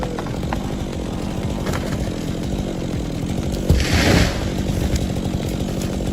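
Chainsaw bore-cutting into a hardwood tree, the engine droning steadily and close throughout, with a brief louder surge as the bar bites deeper near the end.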